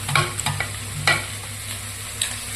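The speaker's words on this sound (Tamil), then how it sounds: "கிரேவிக்கு ஆனியன் நல்லா வதங்கிட்டு இருக்கு" Onions sauté in a pan for a spicy pepper chicken gravy, giving a soft steady sizzle broken by several sharp scraping stirs of a spatula. It is close, moderately loud and without talk.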